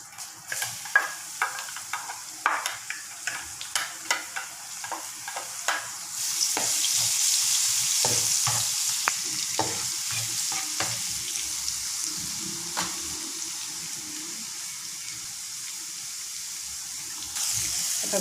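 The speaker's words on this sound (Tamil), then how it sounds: "இப்போ எண்ணெய் ஊற்ற போகிறேன். இப்போ பூண்டு போடுவோம்." Garlic for fried rice vermicelli hits hot oil in a pan: a run of sharp clinks from stirring, then a loud, sustained sizzle that keeps hissing steadily with occasional scraping taps, no voices.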